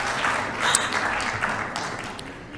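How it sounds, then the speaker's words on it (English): A crowd claps steadily for a couple of seconds, dense applause with a few whoops, gradually tapering off. "with a round of applause, welcome on stage Rainer Pesti"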